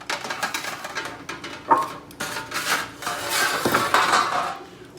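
A metal baking pan handled in a kitchen while making apricot cheesecake bars, with repeated clanks, rattles and scraping knocks in irregular bursts, close and fairly loud.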